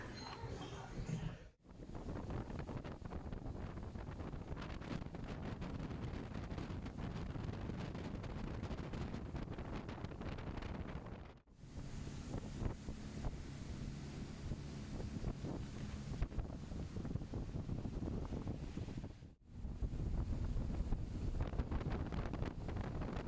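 Boat ride across open water at Corcovado National Park, Costa Rica, with steady loud wind buffeting the microphone and a constant engine and water rush, broken by a few brief dropouts.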